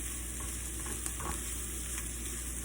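Minced garlic frying in hot oil for beef stroganoff makes a steady, close sizzle with faint stirring movements throughout and no voices.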